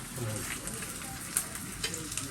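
Food fries in a pan in a home kitchen, a soft, steady sizzle and crackle with a few brief pops, quiet and close, with faint voices in the background.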